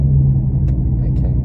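A car exhaust fitted with J-pipe resonators gives off a loud, steady low rumble that booms close by at idle, with faint clicks and rattles over the drone.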